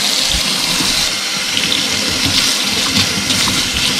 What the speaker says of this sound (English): Give the cilantro a good rinse.